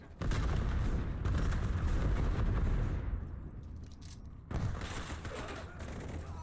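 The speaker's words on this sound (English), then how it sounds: "Cluster grenade going out." A cluster grenade explosion in Call of Duty, heard as a heavy, loud rumbling blast with crackling bursts that fades, then a second loud burst of explosive noise.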